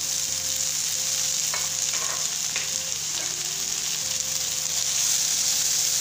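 Tomato, onion and green chilli, seasoned with salt and pepper, fry in a pan with a steady close sizzle, broken by a few light scrapes of stirring, with no talking.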